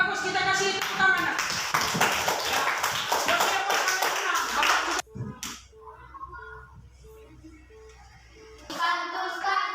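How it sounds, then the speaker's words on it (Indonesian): A classroom of students and their teacher claps together, a brisk burst of many hands for about five seconds, followed by a quiet pause with a faint tone, and then a voice speaks. "kita kasih tepuk tangan"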